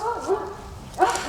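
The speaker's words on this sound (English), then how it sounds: "my neighbor's dog." A neighbor's dog lets out two short, high yelping cries, more screams than barks, heard from a moderate distance over background noise.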